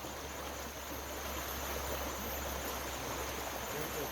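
Constant rushing of a fast-flowing river, a dense, steady wash of water sound with no breaks.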